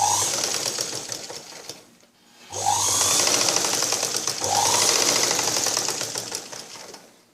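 A sewing machine stitching a blouse at the shoulder runs in two close, steady bursts of rapid whirring clatter, a motor whine rising at each start, split by a brief pause.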